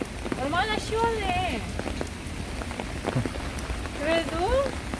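Rain falls steadily on a surface outdoors, a continuous dense patter throughout, while people's voices rise in melodic speech over it at two points.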